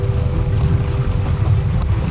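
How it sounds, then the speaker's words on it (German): Loud, steady wind rumbles and buffets the microphone aboard a sailing catamaran on the water, with a low constant roar and no talking. "nun haben wir mal einen kleinen Augenblick ein bisschen mehr Wind"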